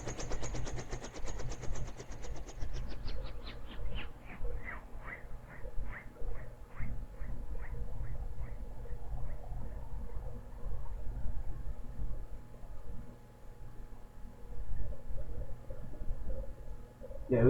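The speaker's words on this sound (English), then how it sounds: "rotor brake on request under 150 rpm. It's already under 150, so we can apply rotor brake." A Guimbal Cabri G2 helicopter rotor winding down under the rotor brake, a repeating whooshing pulse that slows and thins steadily over the engine's low rumble until only a faint hum remains.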